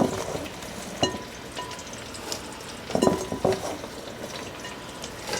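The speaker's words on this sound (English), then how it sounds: "And now I'm going to be adding in these onions." Onion rings going into a soup pot and being stirred for a French onion soup, giving a few soft clanks and scrapes over a low, steady background rustle with no talking.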